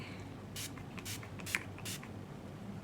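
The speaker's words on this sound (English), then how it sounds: "you can take like your setting spray and spray your mask and your makeup won't transfer" Makeup setting spray is misted onto a face mask in four short, soft hissing bursts, each about a quarter second long, spaced evenly in a quiet room.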